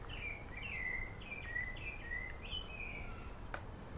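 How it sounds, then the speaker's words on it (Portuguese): Birds singing outdoors, a quiet series of short whistled chirps repeating in a loose rhythm over a faint low background hum, fairly distant and with no talking. "Canto dos pássaros. Deus bota os pássaros para cantar aqui, para você ouvir, se alegrar."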